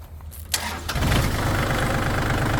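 A 2019 Kubota L4018DT tractor diesel engine cranks and catches after about a second, then settles into a steady, loud, close idle with no talking.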